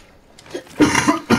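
A person coughing in a game setting: two or three close, sharp coughs in quick succession after a brief quiet start.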